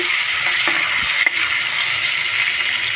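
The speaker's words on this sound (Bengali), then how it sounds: "ফোড়নটাকে আমি ভালো করে ভেজে নেব" Whole spices tempering in hot oil for dhaba-style chicken masala, giving a steady, even sizzle throughout with a couple of faint stirring clicks.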